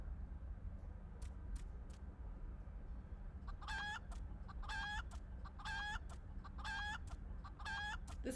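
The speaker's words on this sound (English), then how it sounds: "This chicken is OP." Chicken clucking from Final Fantasy XIV: a steady series of about five clear, repeated cluck calls at a regular rhythm over a low constant game hum, with no voices.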